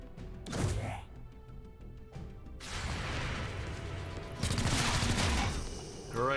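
Gunfire in the XCOM Chimera Squad video game, a burst of crackling shots followed by a dense, sustained volley of loud blasts and impacts with game effects layered over it.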